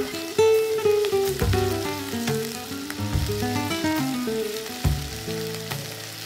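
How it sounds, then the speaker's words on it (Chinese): Fish bones fry in a non-stick pan, a steady crackling sizzle with sharp pops, heard under prominent tonal music. "鱼骨都煎得金黄后"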